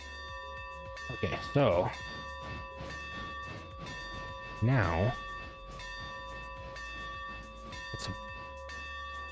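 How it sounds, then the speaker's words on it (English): Locomotive bell in the RailRoader train game, ringing steadily with sustained metallic tones over low rail rumble and brief louder bursts, while someone talks over it. "quite a loud bell. Railroad bells are very loud, but that one's seems exceptionally loud"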